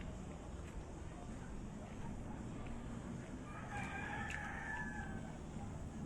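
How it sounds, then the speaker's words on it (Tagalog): A pet goose honks outdoors, giving a single drawn-out nasal call partway through at moderate distance over faint ambient noise, with a person talking nearby. "itong gansa ko."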